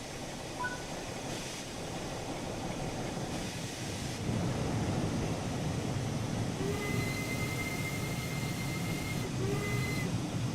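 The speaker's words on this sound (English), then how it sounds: "Oh look, train." A train passes in Train Sim World 3 on a British line, a continuous rumbling, hissing rail roar that swells louder partway through with faint squeals of wheels on track, no talk over it.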